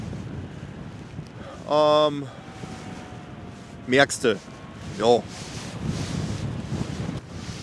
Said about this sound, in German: Also der Westwind, der schiebt dann jetzt gerade schon sehr drüber.